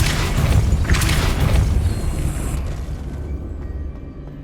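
Depulso spell from Hogwarts Legacy unleashed as a heavy, rumbling boom with a rushing burst on top, loud and close, then slowly dying away into a quiet tail.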